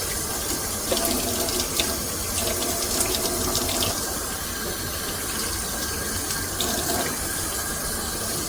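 Water runs steadily from a tap into a sink while milking machine parts are washed in soapy water, with faint clinks and rubbing from brushing, close and continuous, no voices.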